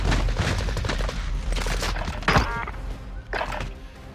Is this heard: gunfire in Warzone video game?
yes